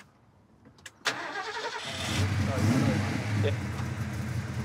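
A Ford XR8 engine cranks and catches around the one-second mark, then settles into a steady, rumbling idle close by, with a brief spoken word near the start.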